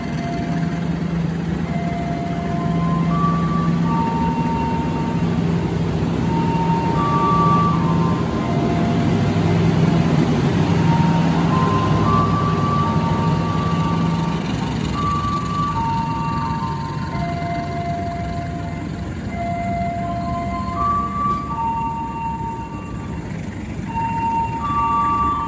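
Steady low hum of the Harina passenger train waiting at an Indonesian station, with a repeating two-tone electronic chime or announcement melody playing over it throughout.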